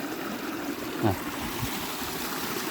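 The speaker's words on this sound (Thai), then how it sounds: "เห็นน้ำไหลนะครับ" Water drains from a rice paddy, rushing and trickling steadily, a continuous broadband flow close by, with a brief splash or thud near the middle.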